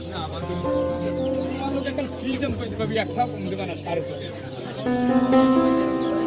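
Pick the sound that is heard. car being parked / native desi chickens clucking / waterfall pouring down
native desi chickens clucking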